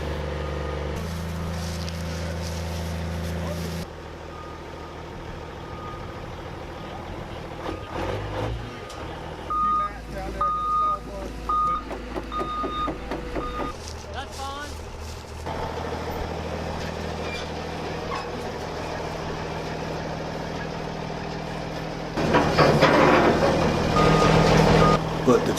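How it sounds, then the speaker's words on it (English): A logging truck reverses a trailer in the backwoods of Virginia, its reversing alarm beeping steadily over a rumbling diesel engine, with engine surges and voices in the background. "and Wayne was able to get it backed over there."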